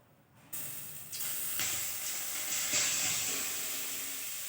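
Chopped carrots hiss and sizzle steadily in hot ghee in a pan while cooking carrot halwa, a soft continuous frying sound that swells after a quiet start and carries on without talk.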